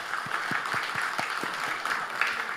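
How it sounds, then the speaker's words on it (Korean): A church congregation at a Sunday afternoon worship service claps together, a dense, steady patter of many hands lasting a few seconds with no talking over it. "말씀을 은혜 주신 하나님께 영광의 박수 올려드리겠습니다."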